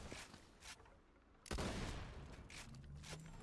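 Gunshots in Borderlands 2 (Tiny Tina's Assault on Dragon Keep): a few faint shots, then one louder blast with a rumbling tail and scattered follow-up fire, all fairly quiet and distant.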